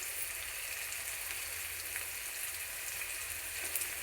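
Chili powder and turmeric fry in hot oil in a pan for an Indian egg and mango curry, giving a steady, even hiss of sizzling throughout with no talk.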